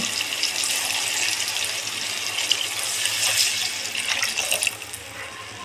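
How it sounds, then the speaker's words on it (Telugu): Water pours steadily from a brass pot into a pan for semiya upma, a continuous splashing gush that tapers off near the end. "ఇదిగోండి ఒక చెంబు వాటర్ పోస్తుంది ఎసురు నీళ్ళు"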